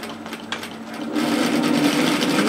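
A domestic sewing machine back tacking at the start of a seam in a pleated peplum top, a soft whir that rises into steady continuous stitching for a couple of seconds, close and alone.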